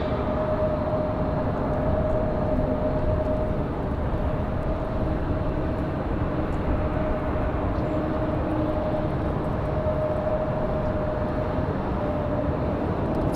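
An airliner arriving at Raleigh-Durham airport fills the air with a steady, broad jet roar that holds evenly throughout, heard from a distance outdoors with no talk.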